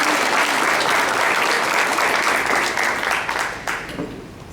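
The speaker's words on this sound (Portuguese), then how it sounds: "Você pode aplaudir o nosso Deus?" Loud, continuous applause from a church congregation fills the hall, dense and even before tapering slightly at the end.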